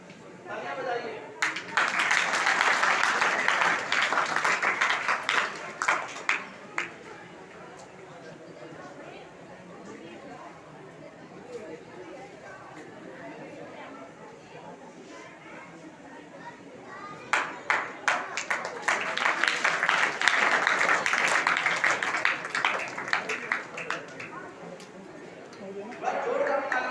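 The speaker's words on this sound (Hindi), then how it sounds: "तालियां बजाइए।" A school audience at an inter college in India breaks into hand clapping in two bursts of several seconds each, with chatter and voices filling the quieter gap between them.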